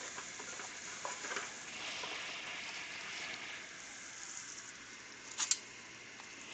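Food frying in a pot while being stirred, a steady hiss of sizzling oil with soft scraping stirs and a couple of brief knocks near the end, close and moderately loud with no talk.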